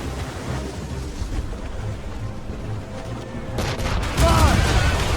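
Ship cannon fire in Assassin's Creed Rogue during a naval battle, with a roaring volley of blasts near the end over wind, water and crew shouting.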